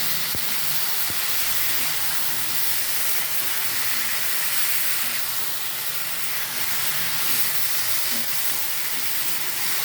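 Jackfruit pieces cooking with spices in a pan over lowered flame, a broad continuous hiss of frying with a couple of faint knocks early on, steady and close, no speech.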